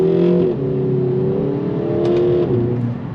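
Artificial engine sound piped through the cabin of a 2023 Kia Forte GT, a steady synthetic drone with harmonic tones that rise and dip as revs change, loud and close with no talking.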